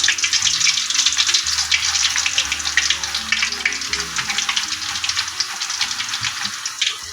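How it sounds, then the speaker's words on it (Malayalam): Raw banana slices dropped into boiling oil for Kerala-style chips, giving a constant loud hissing, crackling sizzle with dense bubbling that barely changes over several seconds. "ഇപ്പം നല്ല എണ്ണ അങ്ങോട്ട് തിളച്ച് കിടക്കുന്നുണ്ടെങ്കിൽ അരിഞ്ഞ് അരിഞ്ഞ് ഇങ്ങനെ ഇടുന്നു"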